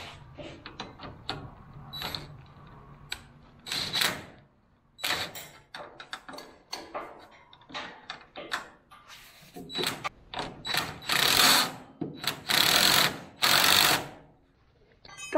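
Bolts on a car suspension bushing of a Ranchero are tightened with a ratchet, producing irregular bursts of clicking and metallic clanks up close, some loud and sharp, with occasional shuffling between them.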